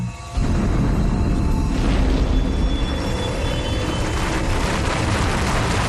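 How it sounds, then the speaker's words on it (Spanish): A sudden deep boom from a volcanic eruption swells into a sustained, loud roaring rumble that fills the scene without letting up. "de pronto, a la 1 en punto, llega la gran erupción"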